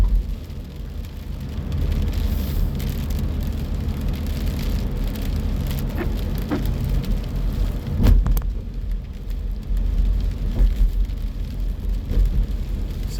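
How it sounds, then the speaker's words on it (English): Gentle morning rain on the coast heard from a moving car, a steady low road rumble and soft patter of drops with a few sharper ticks and splashes, no voices. "nice, gentle rain this morning"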